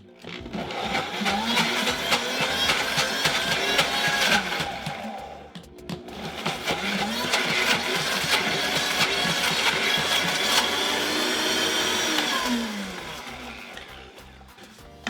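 Blender whirring loudly as it chops cauliflower into rice in a narrow bowl, running in two long bursts with a brief pause between them.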